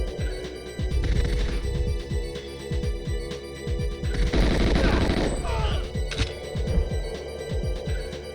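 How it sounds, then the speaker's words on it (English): Gunfire in the video game GoldenEye, a rapid, loud barrage of repeated shots in quick bursts, with metallic clanks and a brief crash midway, fairly close and continuous throughout. "Who is shooting? I have no idea. Somebody is shooting."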